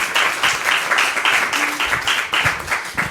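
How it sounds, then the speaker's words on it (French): Steady applause from a live audience in Paris, many hands clapping together in a continuous wash of sound that swells slightly and holds throughout. "je pense qu'il y a un petit applaudissement de mérité"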